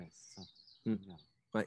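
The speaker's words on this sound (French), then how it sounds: "On entend un merle là-bas." Faint high twittering from a common blackbird singing in the distance outdoors, a thin wavering tone largely under close conversational speech.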